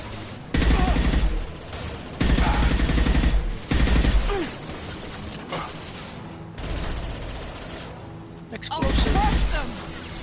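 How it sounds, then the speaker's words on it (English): Close-range SMG fire from the video game Mass Effect 2, loud rapid bursts repeating in several separate volleys with short quieter gaps and game ambience between them. "this is more like an SMG to me for like close range"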